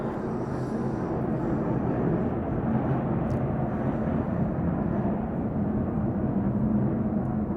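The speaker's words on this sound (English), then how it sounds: "There's a jet going by," A jet aircraft passing overhead near a police patrol, a steady, loud, broad engine roar that holds throughout without voices.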